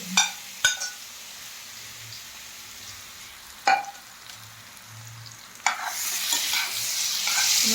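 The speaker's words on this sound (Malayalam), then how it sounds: "ചെറുതായിട്ട് അരിഞ്ഞു വെച്ച ഏത്തക്ക നെയ്ക്കകത്തൊന്ന് അഴക്കിയെടുക്കുകയാണ്" Chopped plantain frying in ghee in a pan, with a soft sizzle broken by several sharp spatula scrapes and stirs. The sizzle swells louder and fuller toward the end, and no one speaks.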